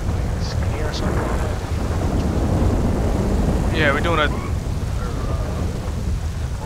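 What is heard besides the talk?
rain and thunder effect in video game GTA V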